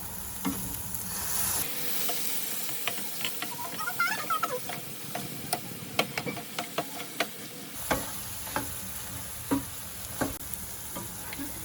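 Steak and mushroom sauce with heavy cream sizzles steadily in a pan, the hiss punctuated by repeated clicking scrapes of a utensil stirring close by.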